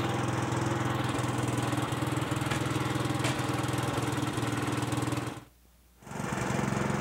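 Mortar mixer churning mortar and sand for masonry work, a steady loud mechanical drone with rhythmic paddle churning that drops out briefly near the end and then resumes, heard alone.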